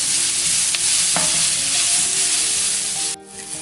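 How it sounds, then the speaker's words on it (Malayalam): Onions sautéing in a pan for chicken tikka biryani give a loud, steady close sizzle with a few stirring scrapes, then drop off sharply near the end. "നന്നായി വഴറ്റിയെടുക്കാം."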